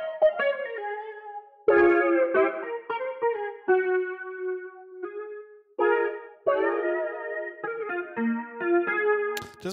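Evolution Jazz archtop virtual guitar run through flanger, Brigade chorus and auto filter plugins, playing a loud, shimmering chordal and melodic line with swirling modulation and irregular phrasing, alone with no talk.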